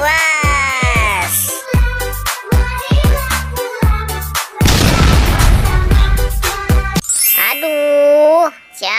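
A cartoon bomb explodes in a loud, rumbling burst in the middle, surrounded by bright dinging, jingling sound effects and cartoonish tones.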